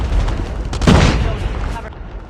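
A grenade explodes amid gunfire in Call of Duty Mobile, a loud boom swelling in the middle of a short burst of crackling shots that fades quickly.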